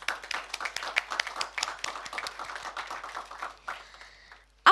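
Audience applause for event sponsors at a media briefing and sponsor launch ceremony, dense overlapping hand claps sustained for several seconds before thinning out, with a brief loud thump at the end.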